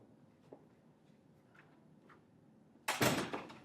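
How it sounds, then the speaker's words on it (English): A door swings shut in a quiet classroom, landing as one sharp, close thud with a brief ringing decay after a stretch of faint room noise. "Close this door."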